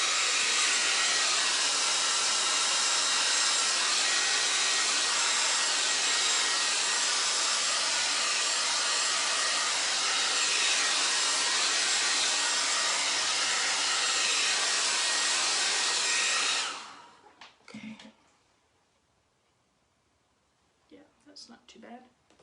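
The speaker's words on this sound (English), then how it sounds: "I'll use the hair dryer and just speed that along so I don't make a mess of it." A hair dryer blows steadily and loudly on a craft transfer for about sixteen seconds, then cuts off, leaving faint handling and tapping sounds.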